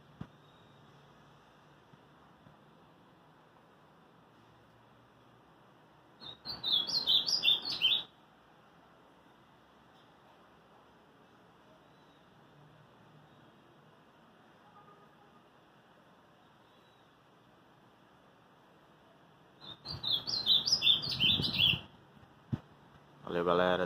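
An azulão songbird sings two short, bright bursts of warbling notes, separated by long stretches of quiet hiss, with faint talk near the end.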